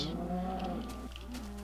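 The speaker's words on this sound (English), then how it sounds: "So this is where the cows are." Cows moo in a video game, a couple of low drawn-out lows close together over a soft background hum, with no talking.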